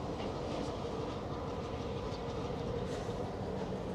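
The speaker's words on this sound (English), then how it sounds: "There goes a freight train." A freight train rumbles past to the east in Clarkson, Mississauga, a steady broadband roar with faint rail clatter holding at the same level from start to finish, with no voices over it.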